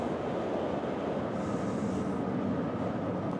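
A Denver RTD commuter rail train pulls out of Union Station, a steady rumble and rattle of wheels on track heard from inside the car, continuous and moderately loud.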